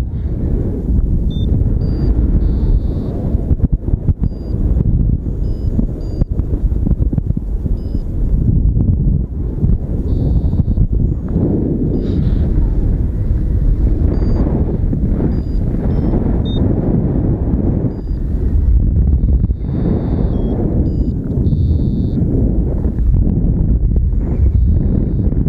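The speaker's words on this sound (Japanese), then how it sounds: "ここはまた違う風が吹いてるね。" Wind blowing outdoors, roaring steadily and buffeting the microphone for the whole stretch as a loud, continuous low rumble, with a few faint high beeps poking through now and then.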